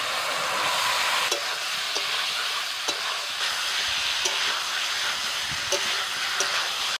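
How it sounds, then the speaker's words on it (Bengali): Fried potato and young jackfruit are stirred into sizzling masala, a continuous close frying hiss broken by a few sharp spoon-scrape clicks at irregular intervals. "মশলা কষানো হয়ে গেছে, এবার ভাজা আলু আর এঁচোড় দিয়ে দিচ্ছি।"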